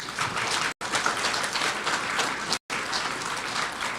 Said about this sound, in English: Can we have another round of applause for him?